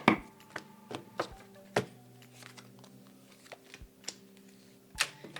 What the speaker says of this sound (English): A quick energetic shuffle, if you will.